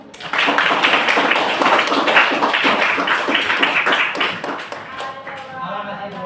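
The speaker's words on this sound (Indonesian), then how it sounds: "Berikan aplaus." A classroom audience in a maths lesson claps together in a steady burst of dense applause that lasts several seconds before tapering off, with voices emerging near the end.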